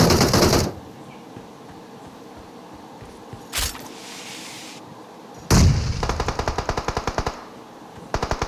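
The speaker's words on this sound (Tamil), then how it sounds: "இப்படா இங்க புல்லட் வருது." Gunfire in the mobile shooter game BGMI: a loud burst at the start, a lone distant shot midway, then a sharp close blast followed by a rapid automatic volley and another short burst at the end.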